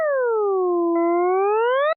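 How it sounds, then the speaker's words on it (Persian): Synthesized tone tracing the graph of y = x²: a smooth electronic pitch dips downward, levels off, then curves back up again over two seconds, alone and loud, ending abruptly. "یا مثلا این صدای y مساوی x2"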